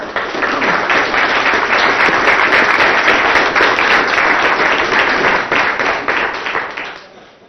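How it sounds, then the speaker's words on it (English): Loud, dense applause rises from an audience at a state executive council meeting, clapping hard and evenly for several seconds before tapering off at the end. "Let's give a round of applause"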